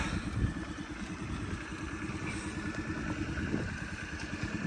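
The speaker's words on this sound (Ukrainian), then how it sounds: "Працює двигунчик" A Honda Dio AF-62 49cc carburetted scooter engine idles steadily, a low even putter with a light mechanical clatter, close by and uninterrupted.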